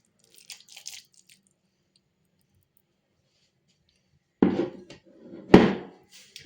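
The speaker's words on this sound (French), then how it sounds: "Donc, je vais tout mélanger." Spinach and cheese börek filling with olive oil being mixed in a bowl, a faint scrape early, then two louder crunchy, clattering stirs against the bowl near the end, with quiet pauses between.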